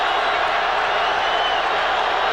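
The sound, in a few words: stadium crowd at Eagles vs Saints football game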